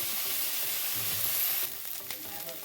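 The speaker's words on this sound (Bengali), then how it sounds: "দিয়ে দিলাম লঙ্কা, আদা, জিরা বাটাটা।" Chili, ginger and cumin paste frying over medium heat in a pan for a Bengali cauliflower roast, giving a loud, steady, close sizzle that eases slightly partway through, with no talking.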